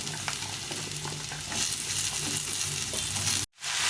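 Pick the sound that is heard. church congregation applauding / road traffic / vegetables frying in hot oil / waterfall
vegetables frying in hot oil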